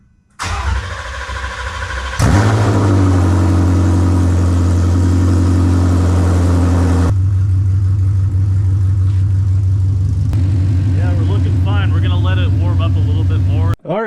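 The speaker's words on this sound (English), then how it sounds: "So let's get this cold start going." A Ford Mustang GT350 fitted with long tube headers and running E85 cold starts with a sharp crank and loud bark, then settles into a steady, rumbling high idle that holds, up close, and cuts off abruptly at the end.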